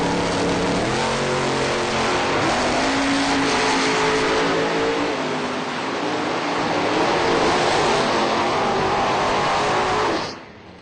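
Drag racing cars launch together down the strip, a loud, sustained engine roar with rising pitch that holds for about ten seconds before cutting off abruptly.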